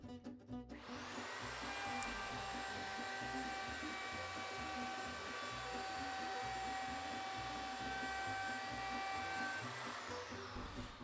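A power tool cuts a second pass to finish a 3/4 inch dado while building a large built-in shelf, giving a steady, loud whining drone with tonal harmonics that runs continuously for about ten seconds with no talk.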